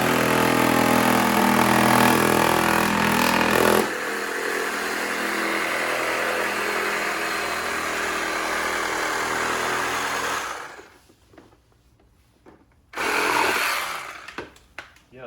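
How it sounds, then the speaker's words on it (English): Battery-operated Sawzall reciprocating saw cutting, loud, dense and continuous for about ten seconds, shifting after the first few seconds, then stopping briefly before a short final burst. "that's pretty legit for this little battery operated Sawzall"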